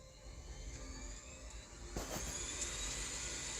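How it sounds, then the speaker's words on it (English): Substation switched on in a video game, giving a steady jet-engine-like roar and hum that swells slightly louder midway and holds, with no voices. "Sounds like a jet engine."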